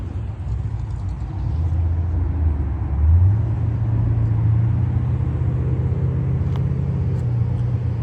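A Ford Mustang racing engine drones loudly and steadily in a low rumble, its pitch climbing partway through and then holding, with no voices.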